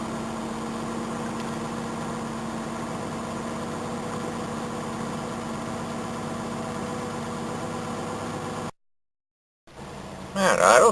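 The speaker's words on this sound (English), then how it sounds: "That idle's pretty good for cold. It's running along nicely." A cold vehicle engine idles with a steady low hum and faint vibration for several seconds, then cuts to silence before a brief louder burst of sound at the end.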